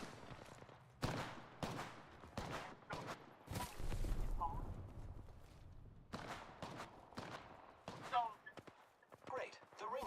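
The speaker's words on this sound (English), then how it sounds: "Opening fire on the enemy." Gunfire in a video game crackles in repeated sharp bursts with brief pauses between volleys, mixed with in-game voice lines and movement noise.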